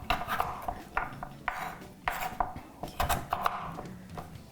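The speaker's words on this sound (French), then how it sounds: "je vais juste les couper, pas trop gros, pas trop petits non plus" A knife chops root vegetables into medium pieces on a board, with a steady run of close, light knocks and clicks, irregular in rhythm and without talk.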